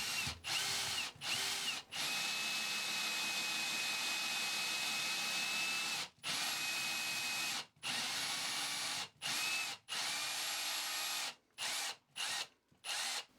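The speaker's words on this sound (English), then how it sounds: "I'm now going to drill the first fixing hole." A power drill whines steadily in long runs drilling a fixing hole in a hollow wall, stopping and restarting several times in short bursts toward the end, close and loud.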